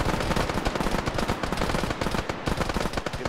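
Arma 3 gunfire near a hotel sounds as dense, continuous automatic weapon fire with overlapping bursts and steady loud cracks throughout, and no voices over it.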